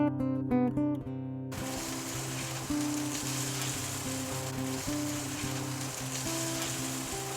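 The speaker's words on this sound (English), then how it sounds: "the Spam is getting real nicely cooked" Spam slices frying in a pan hiss with a continuous, close sizzle beneath steady background music, after a brief musical opening.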